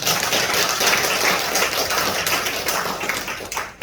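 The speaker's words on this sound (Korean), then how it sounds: "다시 한번 박수 한번." A church congregation at a Sunday service claps together in sustained, dense applause, loud and close, fading slightly toward the end.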